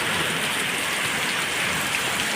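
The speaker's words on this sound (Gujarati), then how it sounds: "ભયંકર વરસાદ." Dense, continuous downpour of heavy winter rain in Gujarat drumming on surfaces, a steady roaring wash with no pauses.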